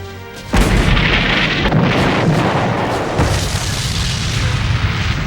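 Battlefield gunfire and artillery erupt in a sudden loud boom, then a dense, continuous roar of explosions and firing that keeps going without a break.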